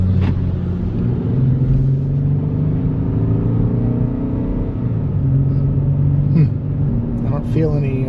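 A Lincoln MKZ engine runs and pulls in traffic with a steady, loud rumbling drone and slight rises in pitch, while people talk over it.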